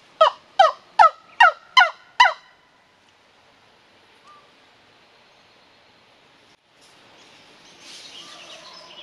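A bone wing-bone turkey call, used in hunting, imitates a hen turkey with five sharp, evenly spaced yelps up close, followed by near silence and faint outdoor background noise.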